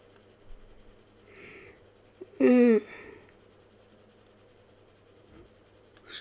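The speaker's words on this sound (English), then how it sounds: "Excuse me. Keep yawning." A person yawns once while playing Yu-Gi-Oh! Link Evolution: a short breathy, wheezing stretch of voice, close and fairly loud, set against a quiet hum and faint rustles.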